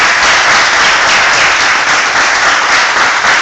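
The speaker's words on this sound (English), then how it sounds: "let's give him a round of applause for that." A full audience round of applause at an evening learning session in a hostel, steady dense clapping held at the same loud level throughout, with no talk over it.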